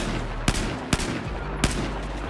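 Gunfire in the video game Battlefield 4 cracks out as three loud, sharp shots spaced about half a second apart over a constant rumbling game background.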